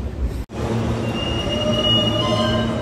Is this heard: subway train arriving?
yes